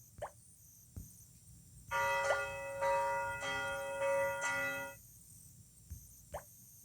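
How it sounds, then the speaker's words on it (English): A bell rings in the Smurfs Village mobile game: a sustained bright chiming tone lasting about three seconds, with a few soft plopping taps before and after, fairly quiet and heard alone. "Nice to know the bell works."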